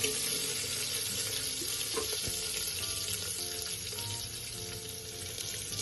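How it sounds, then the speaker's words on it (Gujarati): Onion sautéing in a pan while cooking chole gives a steady, soft sizzle with faint scraping, low and continuous throughout, with no voices. "ત્યાર પછી હવે આપણે તેમાં ઓનિયન એડ કરીશું અને ઓનિયનને આપણે 1 થી 2 મિનિટ માટે સાંતળી લઈશું"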